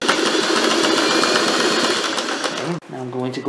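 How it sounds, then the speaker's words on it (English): Sewing machine running continuously while stitching a tote bag strap, a loud close mechanical whir that stops abruptly, followed by a person speaking. "You want to be sewing on your strap."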